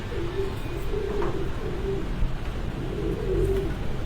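Champion racing pigeons coo in soft, repeated low phrases, fairly close but quiet against a steady background hiss, with no talking.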